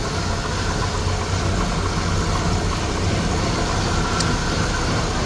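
A 1948 Willys Jeep engine idles loudly and evenly at close range, throttle running a bit high, a constant low rumble with no pauses.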